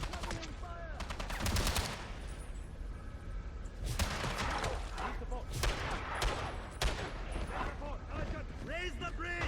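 Gunfire in the 007: Blood Stone video game, a dense sequence of loud, sharp shotgun-like blasts among other shots and impacts, with a voice talking over the action.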